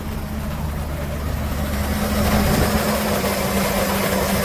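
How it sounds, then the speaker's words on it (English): A 2007 Chevrolet K3500 cab-chassis truck with a flatbed runs its 6.0-litre gas V8 with just under 128,000 miles on it, a steady, smooth idle with a low rumble and outdoor wind wash, close by. "Engine sounds really good."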